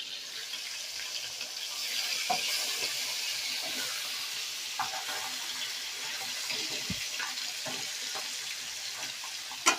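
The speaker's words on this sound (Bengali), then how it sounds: "উল্টে এপারটাকেও ভালো করে ভেজে নেব।" Hilsa fish pieces fry in hot oil with a steady, moderate sizzle and crackle, broken by occasional soft clicks and pops as the pieces are handled and turned.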